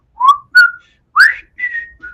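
A person whistles a short part of the Andy Griffith theme alone, five clear notes in quick phrases with brief pauses between, close and fairly loud.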